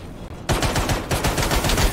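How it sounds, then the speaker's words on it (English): Video game gunfire bursts out loud and dense after a short quiet lead-in, repeated shots rattling rapidly in an unbroken stream up close. "They're shooting your dead corpse, though."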